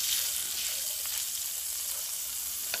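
Meat for a traditional chicken tajine with free-range chicken sizzles and fries in a pan with a steady, close hiss, broken by occasional faint stirring clicks.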